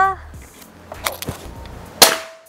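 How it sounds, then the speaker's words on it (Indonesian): A sharp, loud crack of a PCP bullpup air rifle firing rings out near the end, after a few quieter clicks and metallic clinks. "tembakan yang ketiga tembakan yang keempat"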